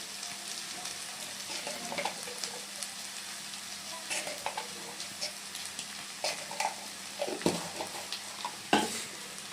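Fish and vegetables with dried red chilli stirred in a pan, cooked without oil or water, giving a steady low sizzle broken by repeated scraping strokes and clinks of the spoon, close and moderately loud, with no talking.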